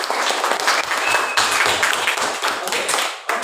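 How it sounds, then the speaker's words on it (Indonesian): A classroom of students applauding together, a dense, steady burst of clapping that fills the room for a few seconds before cutting off abruptly at the end. "tepuk tangan untuk semuanya"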